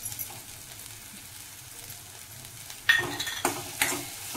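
Peanut powder is stirred into a frying tomato masala for stuffed brinjal curry. A low, quiet sizzle gives way to louder scraping stirs of a spoon against the pan in several close strokes near the end.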